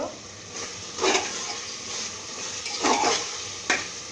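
A spoon stirs beef with potatoes and spices in a pressure cooker pot, giving a few separate scraping, sizzling strokes over a low steady hiss.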